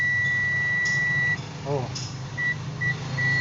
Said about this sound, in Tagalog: Lagay din natin sa buzzer. Buzzer yan.